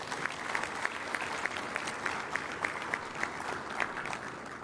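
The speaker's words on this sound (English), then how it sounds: "I think we need to give them a round of applause" A room full of people applauding steadily at a community meeting, dense clapping that keeps going throughout with a few sharper claps standing out.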